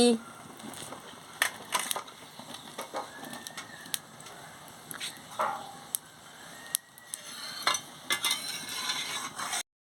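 Potato and eggplant pieces with salt being stirred in a pan for a Bengali ghonto, with repeated scraping and clattering strokes over a soft sizzle, fairly close and steady throughout.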